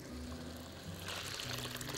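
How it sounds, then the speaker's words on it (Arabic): A small amount of water is poured into a cooking pot in a home kitchen, a brief soft splash and trickle, close but quiet, with faint low voice-like sound underneath. "انا محتاجه شويه ميه صغيرين قوي"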